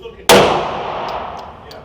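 A single loud, close pistol shot from an HK VP9 fitted with an upgraded trigger, a sharp crack followed by a decaying echo.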